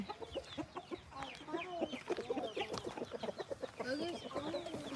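Chickens cluck and chatter close by, a busy, uneven stream of short calls from several birds, fairly quiet overall.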